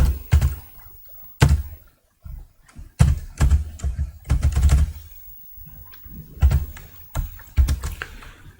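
Keys clatter on a computer keyboard in short, irregular bursts of taps and presses, close and distinct, separated by brief quiet pauses.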